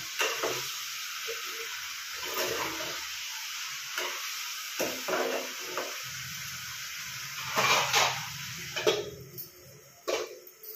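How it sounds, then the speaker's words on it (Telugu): Vegetables simmer in oil with salt and turmeric over low heat, giving a steady soft sizzle and hiss with occasional louder crackles and a few stirring clinks, close by with no voices. "అలా మంచిగా మగ్గుతాయి అన్నమాట నూనెలో కూరగాయలు."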